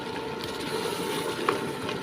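Water poured into a pot of lentils, cracked wheat, turmeric, chilli and salt while cooking haleem; a steady close gush and trickle runs continuously for a couple of seconds.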